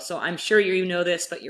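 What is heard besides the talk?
None of the usual background noises is heard.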